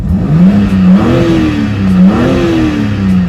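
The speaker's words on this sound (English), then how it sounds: "It has 510 horsepower and 650 newton meters of torque from the 3 litre straight 6 M twin power turbo engine." BMW M3 Competition with a 3-litre straight-six M TwinPower twin-turbo engine revving hard, producing a loud, close exhaust note that climbs and falls in two sweeping rises with no talk over it.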